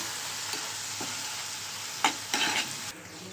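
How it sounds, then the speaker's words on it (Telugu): Onions with a little turmeric frying in a pan, an even sizzling hiss broken by several sharp spoon scrapes and stirs, two louder ones close together late on, no voices. "ఇప్పుడు ఉల్లిపాయలు వేగుతున్నాయి కదండి, కొంచెం అంత లైట్ పసుపు వేసుకున్నాము."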